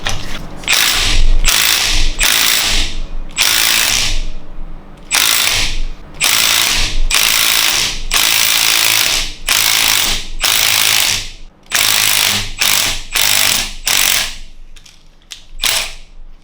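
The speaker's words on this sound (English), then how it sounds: "I'm going to give it a try with the impact." Repeated bursts from an impact wrench hammering on the crankshaft hub of a BMW N62 V8 while a pulling bracket draws it off, about a dozen loud rattling strikes of varying length separated by brief pauses, no talking.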